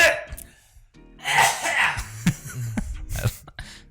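A loud, exaggerated sneeze with a sharp burst and gasping breaths, followed by coughing-like bursts, close and vocal.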